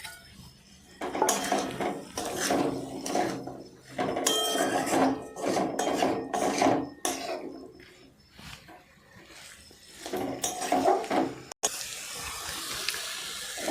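Potatoes and peas are stirred in a cooking pan, with repeated scraping, clattering strokes of a utensil against metal in uneven bursts, close and fairly loud, with sizzling between strokes.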